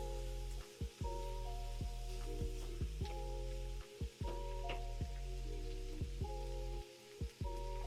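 Ground beef sizzles steadily in a hot pan while a wooden spoon breaks it up, scraping and tapping against the pan in repeated knocks over the crackling fry. No one speaks.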